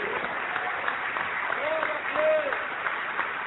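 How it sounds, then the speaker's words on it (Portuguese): Congregational applause at a church service, steady clapping from a crowd running throughout, with a voice faintly heard over it. "vamos aplaudir mais o Senhor Jesus"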